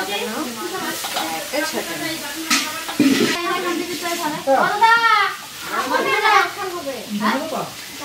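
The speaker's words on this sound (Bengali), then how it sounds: "মাছ ভাজা হচ্ছে নাকি" Fish fries in a pan for a shared New Year family meal, a soft sizzle running underneath several people talking close by throughout.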